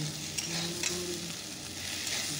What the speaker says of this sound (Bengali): মশলাটা দিয়ে দিয়েছি, মশলাটা ভাজা হয়ে গেছে